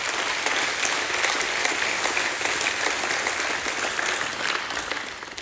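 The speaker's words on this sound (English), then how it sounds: "give God a hand clap of praise" Church congregation clapping in praise at a morning service, loud sustained applause from many hands that keeps a full, even texture before tapering slightly at the end.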